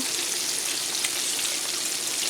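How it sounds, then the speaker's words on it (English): Buttermilk-battered chicken frying in oil over low heat, a continuous dense crackling sizzle, close and even throughout. "there's our chicken frying up"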